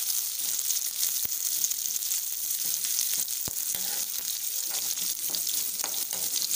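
Green chillies with two or three torn curry leaves sauté in oil in a pan, giving a steady, even sizzle throughout with a couple of faint utensil taps.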